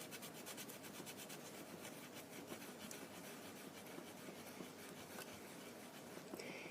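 Steady, rapid back-and-forth sanding of a freshly baked polymer clay pendant, close and continuous rasping strokes at a quiet level throughout.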